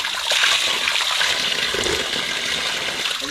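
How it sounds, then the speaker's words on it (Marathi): Water pours steadily at a small waterfall beside a temple in Malvan, a close, continuous rushing and splashing with no talk. "जरी पाणी संपलं ना तरी हा धबधबा चालूच राहतो"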